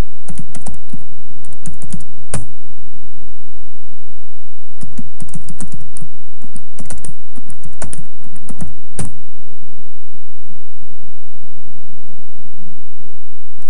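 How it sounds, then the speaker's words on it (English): Computer keyboard typing as a username and password are entered, loud close key clicks in quick bursts separated by pauses, with no talk. "It might ask me again for my username and password, so I'll just type in."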